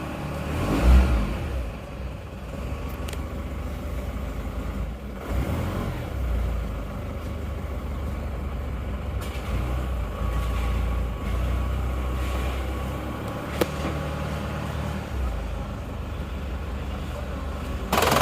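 Isuzu Panther diesel engine with leaking injector nozzles idles steadily nearby, a continuous low rumbling chug with faint mechanical clatter throughout.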